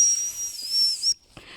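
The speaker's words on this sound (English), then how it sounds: "And then I blow my whistle." A dog whistle blown outdoors to call a group of dogs in for treats, one long shrill steady blast lasting about a second, close and loud, followed by a short quieter peep.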